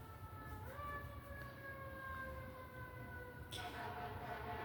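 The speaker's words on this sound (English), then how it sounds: "I'm hearing like the ambulance," A siren wails steadily with rising and falling tones, fairly distant, over a constant low rumble of traffic or wind.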